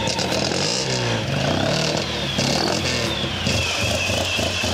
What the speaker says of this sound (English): It's the bi-cylinder 700 cubic centimeter Panhard engine that can bring the car up to 200 kilometers an hour